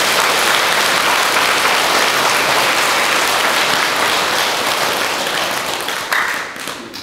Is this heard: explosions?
no